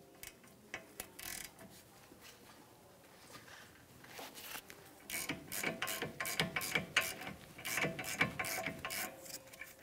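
Ratchet wrench with a 15 mm socket turning caliper bracket bolts on the rear brakes of a 2011-2019 Ford Explorer, heard as close, quiet bursts of rapid clicking that grow denser in the second half.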